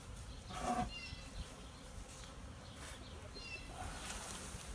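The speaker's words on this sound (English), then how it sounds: "Several thousand bees." Faint, steady buzzing of many bees in a low continuous drone, with occasional louder passes of individual insects close by.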